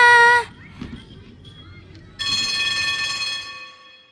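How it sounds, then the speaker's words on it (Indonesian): A school bell rings in two loud bursts: a short one at the start, then after a quiet gap a longer, steady electronic ring that fades out, with no talk over it. "Bel pun berbunyi."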